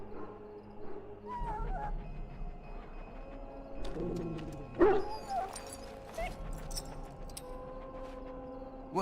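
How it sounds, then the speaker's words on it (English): A mabari war hound in the Dragon Age Origins game, sick from swallowing darkspawn blood, whimpers and gives a few short yelps and barks over a low game ambience, with scattered sharp cries near the middle. "the poor hound swallowed darkspawn blood"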